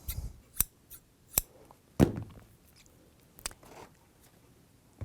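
Scissors snipping lengths of sewing thread, a handful of sharp, crisp clicks spaced unevenly in a quiet room, each one close and brief.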